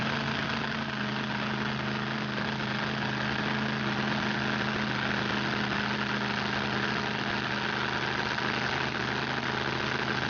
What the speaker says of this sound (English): Dan Richter and Richter Scale, this blown alcohol dirt dragster, just about ready to lay down some serious horsepower on this North Carolina soil